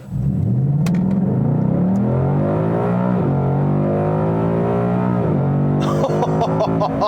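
A 2018 Ford Mustang GT V8 accelerates at full throttle with traction control off, its loud engine note climbing steadily through several gear changes, with brief dips at each shift and a rising roar near the end.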